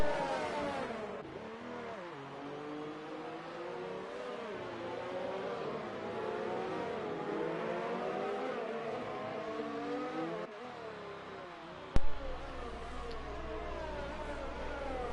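Formula 1 race car engines in a video game race at the Bahrain Grand Prix whine and scream continuously at high revs, pitch rising and falling through gear changes as cars battle closely, with a sharp click near the end.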